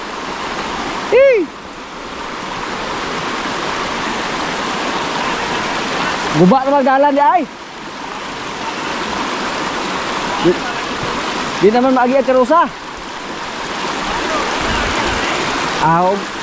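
Strong rushing stream water flows steadily near a washed-out rural road, a broadband roar throughout with someone talking over it at intervals.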